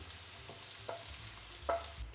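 Onion cooks gently in a pan over low heat, giving a faint, soft sizzle. A few quiet stirring scrapes and clinks are scattered through the clip, with no talking.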